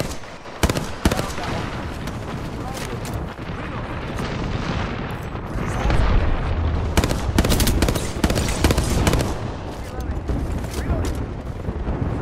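Artillery explosions and heavy gunfire in a battle-royale video game pound in dense, overlapping booms and bursts for the whole stretch, loud and near, with people talking over the din.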